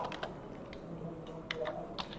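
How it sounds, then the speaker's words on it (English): Fingers tap out a word on a computer keyboard, a handful of quick, light keystrokes in an irregular rhythm, close and fairly quiet, with no one speaking. "I will make use of certain keys which are present on the keyboard. Okay, I will type hello"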